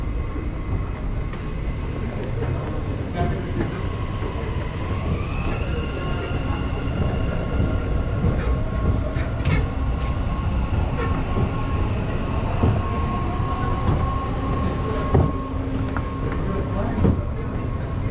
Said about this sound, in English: The train to Etisalat will depart from platform 1.